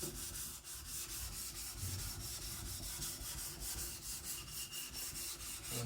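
Continuous rhythmic scraping of a knife's main bevel being worked on a sharpening stone, quiet and steady with regular back-and-forth strokes throughout.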